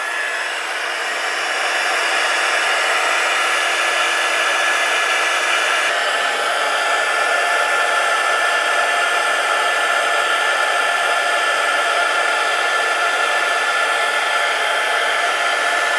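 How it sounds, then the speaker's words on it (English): A hot air blower runs steadily for the whole stretch, a continuous close hiss and whoosh used to heat a Bakelite capacitor block from a Philco radio during a rebuild. "But you're going to want to heat that Bakelite block up around so you can get it hot, so it'll turn loose from the Bakelite block so it don't stick."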